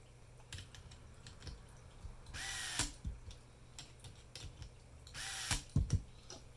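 A power drill with its clutch set low drives screws into the plastic chassis of a Tamiya King Hauler model truck: two short whirring bursts, each ending in a clattering clutch ratchet, with quieter clicks and handling noises between.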